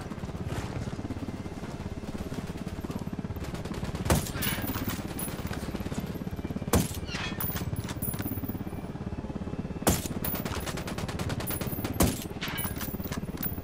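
Gunfire in the video game Ghost Recon Wildlands, with continuous rattling automatic fire punctuated by several louder, sharper shots spread across the stretch.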